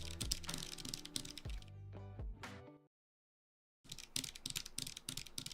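Rapid typing on a keyboard fitted with lubed Cherry MX Brown switches: dense, close keystrokes, a short burst, a second of silence, then more quick typing.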